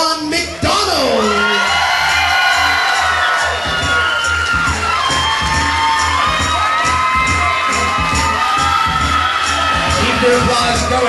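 A crowd at a wedding reception cheers, whoops and yells for newlyweds Mr. and Mrs. Sean McDonald, a loud, dense wall of voices with shrill shouts that holds steady from start to finish.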